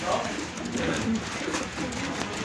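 Racing pigeon cooing in a loft setting after a hard race, soft low throaty coos repeating over a steady noisy background, with some faint talk mixed in.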